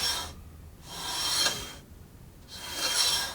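A plywood sled made from scrap wood slides back and forth along long rails, giving three rasping, rubbing strokes with short quiet pauses between them, close and fairly soft.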